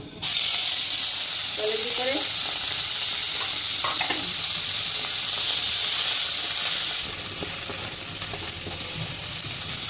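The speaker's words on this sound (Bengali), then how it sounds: "চিংড়ি মাছটি ভেজে নিব ভেজে যে কড়াইতে দিয়ে দিলাম" Shrimp frying in a wok, a loud, close, continuous sizzle with a brief clatter as it goes in, settling slightly quieter toward the end.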